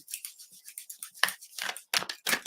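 A deck of playing cards is shuffled close up, a run of quick crisp riffling bursts and snaps that grow louder toward the end, with no voices.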